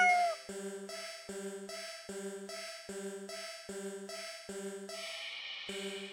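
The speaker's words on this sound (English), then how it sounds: "The cat sounds happy." A repeating, tonal, synthesized cat meow in a horror video game, sounding roughly every eight-tenths of a second in a steady loop, clean and alone with faint echo.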